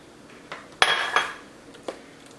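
Kitchen clinks and a sharp crack as an egg goes into a well in buttermilk pancake mix, a few distinct close knocks against a bowl, then quiet, with no voices.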